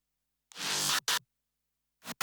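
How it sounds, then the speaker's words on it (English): Synth wubs from Ableton Wavetable for a remix come in short, choppy bursts: one longer growl, a quick stab, then two more clipped hits separated by silence. "on their own, those wubs sound like this"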